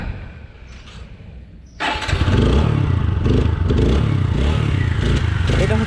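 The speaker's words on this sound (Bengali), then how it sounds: "এটা হচ্ছে ইঞ্জিনের সাউন্ড," A TVS Apache 160 4V motorcycle engine starts after a quiet low rumble, then settles into a loud, close, steady air-cooled single-cylinder running with a rhythmic throb and some mechanical clatter.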